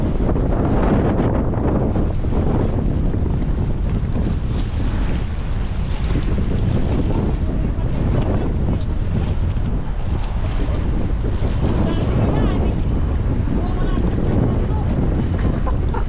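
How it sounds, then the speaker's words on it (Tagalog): Strong wind buffets the microphone in a constant loud roar, with water and boat noise beneath and faint voices now and then. "Gawa ng malakas ang hangin eh."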